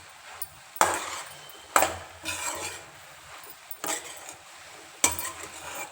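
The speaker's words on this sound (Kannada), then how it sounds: "ಕಾಯಿ ಹಾಕ್ಬಿಟ್ಟು ಸ್ವಲ್ಪ ಚೆನ್ನಾಗಿ ಮಿಕ್ಸ್ ಮಾಡ್ಕೊಳ್ಳಿ" A spoon stirs greens palya with grated coconut in a pan, with several sharp scraping strokes and metallic clinks at irregular intervals, close and clear with no talk.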